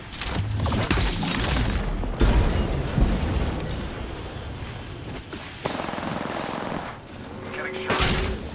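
Rapid gunfire in the video game Apex Legends, bursts of automatic shots and sharp single cracks over a busy firefight, near and loud, with brief game voice lines.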